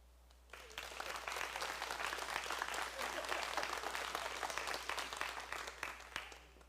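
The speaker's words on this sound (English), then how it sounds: "audience, I want you to applaud if I did not touch her." A magic show audience claps in sustained applause, starting after a brief quiet moment and continuing dense and steady before tapering slightly at the end.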